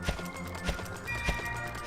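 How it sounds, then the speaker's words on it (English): Hooves of a horse in Dragon Quest VIII clip-clop in an even, repeating rhythm, moderately loud and close, with a low musical backing underneath. "my horse isn't accustomed to being ridden"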